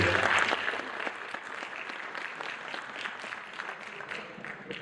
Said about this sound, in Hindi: एक तो अपने लिए भरपूर तालियां बजाइए ताकि आपके होने का एहसास हो सके।